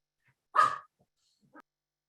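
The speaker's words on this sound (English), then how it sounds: "I know, Chris, the dogs act up there." A dog barks once loudly and close by, then gives a short softer yip about a second later, with silence around both sounds.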